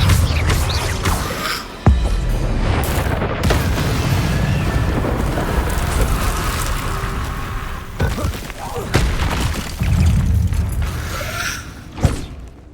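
Incendio fire spell in Hogwarts Legacy bursts out in loud roaring whooshes and booms, dense and continuous with sharp cracks between blasts, over game music.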